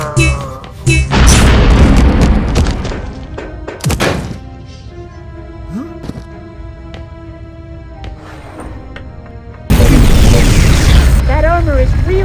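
A second salvo launched in a space battle, heavy booming thunks and blasts up front, then quieter humming tones and scattered thuds, and a loud burst of roaring noise near the end.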